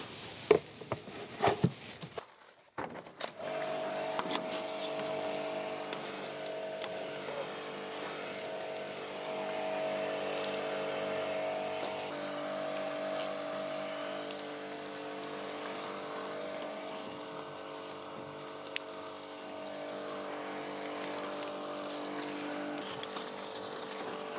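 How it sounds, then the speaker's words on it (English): A V-TUF V7 pressure washer runs at a steady, continuous drone with a rushing spray of water beneath it, opening with a few sharp clatters before settling into an even, moderately loud hum. "this pressure washer is absolutely perfect for washing"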